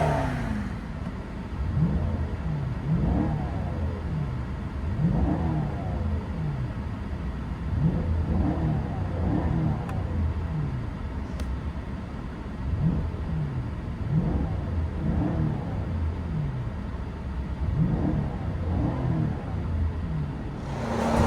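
A 2008 Mercedes S550 with a 5.5L V8, X-pipe and resonator delete, heard from inside the cabin, revs up repeatedly in a rising whine-and-roar pattern, each pull dropping back before climbing again, loud and alone.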